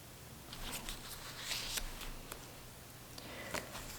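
Pages of an A6 journal being flipped, soft papery flicks and rustles scattered across a few seconds, quiet and close over low background hiss.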